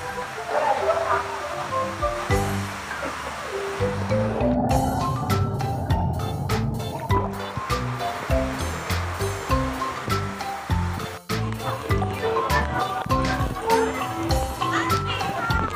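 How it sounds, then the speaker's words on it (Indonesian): Churning, washing water at the wave pool of a swimming pool on a rainy day, steady and close, with voices talking and people shouting over the surge. "Nah, ini posisinya kalau lagi di kolam ombak."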